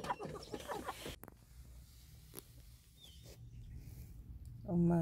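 A farmyard hen clucks in short, scattered calls near a nesting spot among brooding mother hens, while people talk over much of it and a louder low murmur swells at the end.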